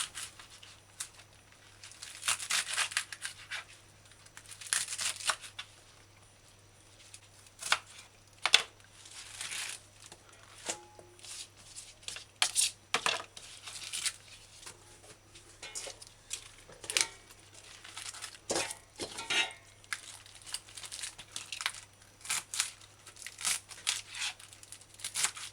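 Knife chopping bok choy into big pieces on a board, an irregular series of quiet crisp cuts and rustling leaves with no talking.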